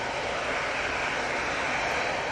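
A passenger jet on a positioning flight to Brussels roars steadily past overhead at Manchester Airport, a broad, loud engine noise holding constant without any talk.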